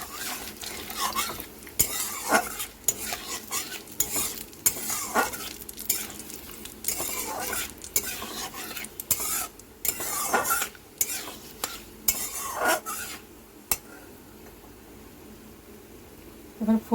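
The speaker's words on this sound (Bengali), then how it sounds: "সাদা জিরে 1/2 টিস্পুন, গোটা গরম মশলা, একটা তেজপাতা, শুকনো লঙ্কা ফোড়নে দিয়ে দেবো।" Whole cumin, garam masala, a bay leaf and dried chilies tempering in hot oil for Bengali dhokar dalna, with a steady sizzle broken by repeated scraping stirs and pan clinks close by; no one speaks.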